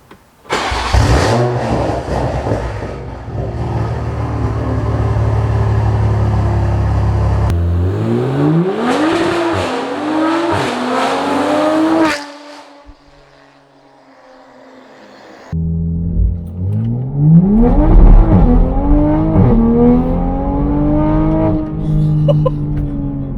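A 6.7 Powerstroke diesel engine with a spicy tune cranks and catches, idles loudly, then revs up several times in rising sweeps, with a brief quieter lull before more throttle blips close by.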